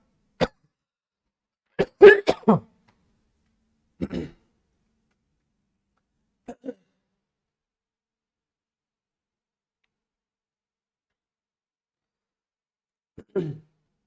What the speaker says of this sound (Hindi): ये खांसी है ना, पीछा छोड़ ही नहीं सकती